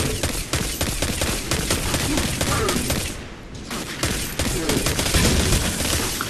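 Rapid, dense burst-mode gunfire from the video game Destiny 2, played on an Acer Nitro 5 laptop, crackling continuously with a brief dip before resuming loud and close.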